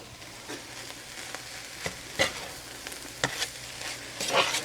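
Chicken fried rice stirred in a hot pan, irregular scraping strokes over a soft sizzle, close and fairly quiet with no talk.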